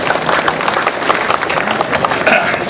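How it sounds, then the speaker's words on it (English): An audience at the opening of the Ignis Fatuus ghost ship attraction in Wildwood, New Jersey claps in dense, steady applause, loud and close, with voices mixed into the crowd noise. "How about another round of applause for the freaks of the Ignis Fatuus?"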